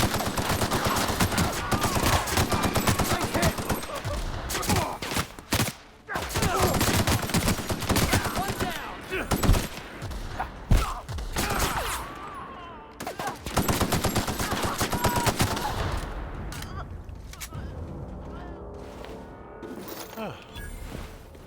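Outlaws open fire in the video game The Outer Worlds, with dense, loud bursts of rapid gunfire nearly continuous through the first half, then sparser shots and brief lulls toward the end.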